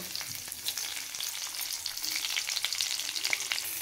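Onions fry in oil in a kadhai on a gas stove, making a constant bright crackling sizzle with scattered pops and the soft scrape of stirring, close and unbroken, with no voices.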